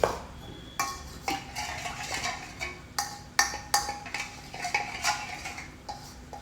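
A spoon clinks and scrapes against a bowl in irregular taps and swirls while yeast is stirred into a pizza dough mixture. The sound is close but fairly quiet, and no one is talking.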